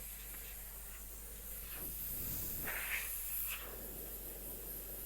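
Airbrush spraying from a hobby compressor setup gives a steady faint hiss that swells into louder soft bursts of air near the middle, then settles back to a low continuous rush.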